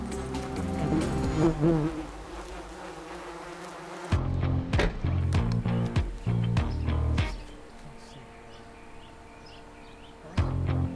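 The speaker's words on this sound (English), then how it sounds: "I'm opening this to see the age of the hive and also the aggressiveness of the honeybees" Honeybees buzzing around a new hive built inside a small pillar, a steady swarm hum broken by sharp knocks and scraping as the pillar is opened, with a brief quieter stretch between bursts and no speech.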